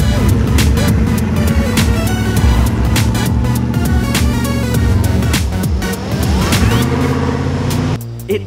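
A Dodge Ram 1500 pickup, partway through a rebuild after fresh fluid was added, drives with a loud, steady engine drone that holds throughout, dipping briefly near the end before picking back up.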